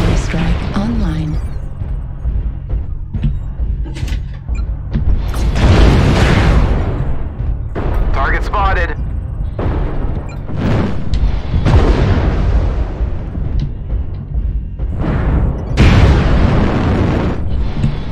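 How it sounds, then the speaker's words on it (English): Heavy booming explosions from an artillery strike in a video game, loud and repeated in bursts across the clip, with a voice speaking intermittently over the blasts. "Artillery strike online."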